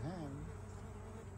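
Metallic green bees buzz close by around flowers in a butterfly garden in the Florida Keys, a brief, steady drone that rises and dips in pitch as one flies past.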